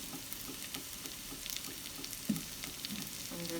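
Chopped onion sautéing in a pan with green chilies and crushed garlic gives a steady, moderate sizzle, with a few soft stirring knocks and scrapes through it.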